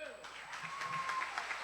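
A church congregation applauding, a fairly faint, steady wash of clapping with a voice speaking over it throughout.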